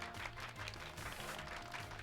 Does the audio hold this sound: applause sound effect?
yes